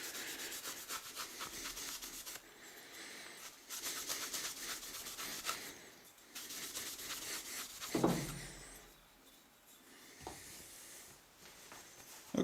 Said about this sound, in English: Now we can hit it with some grey Scotch-Brite,